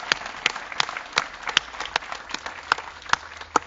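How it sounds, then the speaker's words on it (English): Sparse, scattered clapping from a small crowd at an outdoor ribbon-cutting ceremony for a new building, individual hand claps landing unevenly and fairly close, rather than a full ovation. "maybe just another round of applause for the entire team for putting all of this together"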